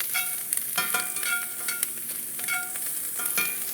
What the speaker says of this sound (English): Touch of pancetta. And just move that around so it begins to render out.